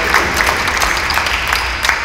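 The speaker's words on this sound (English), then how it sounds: "So let's give them a round of applause for not only starting in the game, but also sticking with it." An audience at a basketball player's college signing ceremony claps steadily in a brief, loud burst of applause, a dense patter of many hands filling the room.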